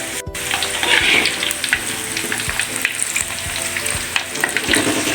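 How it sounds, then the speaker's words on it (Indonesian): Fish pieces fry in hot oil, giving a dense, steady sizzle and crackle with occasional stirring clinks. The frying is close and fairly loud throughout, with no talking. "Sekarang ikannya kita goreng lagi ya bun."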